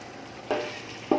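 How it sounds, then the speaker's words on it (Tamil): Tomatoes with salt sautéing in oil in a pan for chicken biryani, a soft continuous sizzle broken by two quick scraping stirs of a spatula, close and fairly quiet. "உப்பு சேர்த்ததுக்கப்புறம் இதை நல்லா ஒரு வாட்டி மிக்ஸ் பண்ணிவிட்டு நல்லா வதக்கிக்கலாம்."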